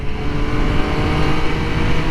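MV Agusta Brutale motorcycle engine revving hard and steadily building revs, a loud continuous close engine roar with no talk.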